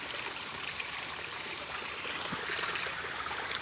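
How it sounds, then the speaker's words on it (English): Steady rushing and splashing of a small pond waterfall in an urban food forest garden in Asheville, with water pumped back to the top and falling continuously, close and even throughout with no talk. "that gets pumped back to the top of the pond, the top of the waterfall, aerated as it comes back down."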